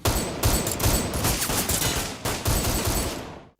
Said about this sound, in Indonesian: Luo dan Dong terus melepaskan tembakan